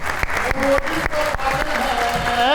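A studio audience claps on a talk show, with a few sharp hand claps and light applause while music plays and a voice speaks over it.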